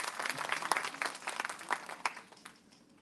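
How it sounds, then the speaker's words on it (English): An audience at a pharmacy quiz competition breaks into applause, a dense patter of clapping that fades out toward the end, with a little talk mixed in. "Give a big round of applause."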